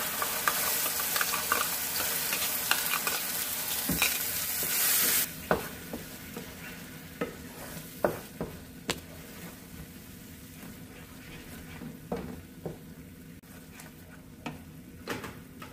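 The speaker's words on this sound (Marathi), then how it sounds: "आता आपल्याला हे वाटण छान तेल सुटेपर्यंत परतून घ्यायचं आहे" Masala paste for matar paneer sautés in oil with a continuous close sizzle, broken by repeated spatula scrapes and stirring knocks; an intense hiss early on eases after a few seconds, and nobody speaks.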